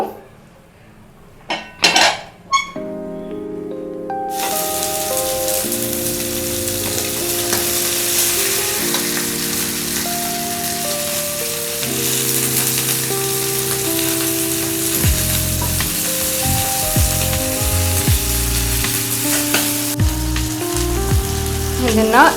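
Rava fry masala sizzles in hot coconut oil in a pan, a loud, steady crackling hiss lasting throughout after a few brief clinks at the start, with a background tone sounding alongside.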